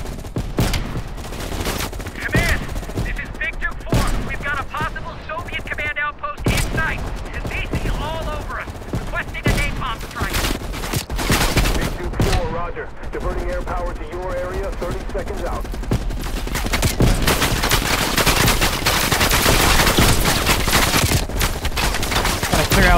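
Dense, loud gunfire in Call of Duty: Black Ops Cold War on PC, with sustained machine-gun bursts and heavy rifle shots from allies pinned on a ridge, near and relentless throughout, mixed with game voices.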